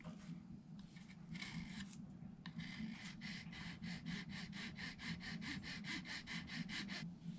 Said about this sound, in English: We're going to go back to a real fine file here.